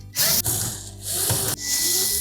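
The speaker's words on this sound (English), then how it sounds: "Then we'll remove 2 screws from either side of that support bracket." Screws being backed out of a support bracket on a Samsung dryer during drum replacement, heard as two loud bursts of ratcheting, whirring driver noise separated by a brief pause, close up with no talk.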